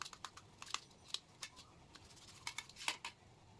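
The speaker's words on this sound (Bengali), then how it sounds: "এবার এগুলোকে একটা ছুরির সাহায্যে ছোটো ছোটো করে কেটে নেব" A knife cuts cabbage pieces into small bits, a quiet irregular series of crisp ticks and taps against a board, close but faint, with no talk.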